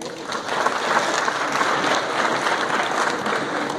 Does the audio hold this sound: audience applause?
yes